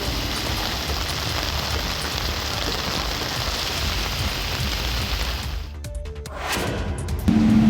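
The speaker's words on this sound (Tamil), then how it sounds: "தேனி மாவட்டத்தில் 2வது நாளாக மிதமான மழை பெய்தது." Moderate rain falls steadily across Theni district in Tamil Nadu, a dense, even hiss of drops on surfaces. It breaks off near the end into scattered clicks and a faint tone.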